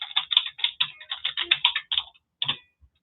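Rapid keystrokes on a computer keyboard come in quick, uneven bursts for about two seconds, then stop briefly before a few final taps. The sound is close and crisp, with no voices.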